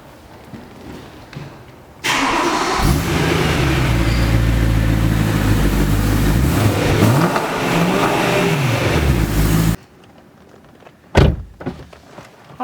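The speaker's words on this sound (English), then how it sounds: "You can hear what the exhaust sounds like on the outside" A 2011 BMW M3 fires up outside, its engine catching with a sharp blast, then running with a loud, rich exhaust drone and revs for about eight seconds before cutting off, followed by a couple of faint knocks.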